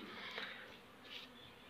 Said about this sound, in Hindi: अब मधुमक्खियाँ आती है और वापस उड़ती है और शहद लेके यहीं बैठ जाती है